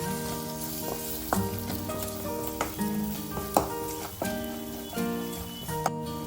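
Coriander, cumin and garam masala powders stirred into a hot pan make a continuous sizzle, with repeated sharp clanks and scrapes of a ladle against metal at irregular intervals, close up.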